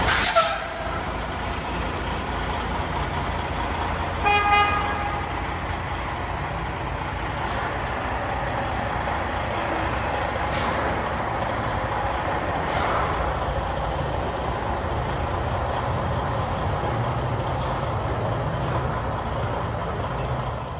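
A 2021 Freightliner Cascadia truck rolling out of a shop, a steady heavy engine rumble throughout with a brief air brake hiss near the start and faint clicks and a high whine later.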